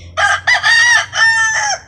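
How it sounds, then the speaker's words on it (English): A lone rooster crows up close, one loud full cock-a-doodle-doo in several bright, strained segments, with a low hum underneath and no talking. "he's the only rooster around"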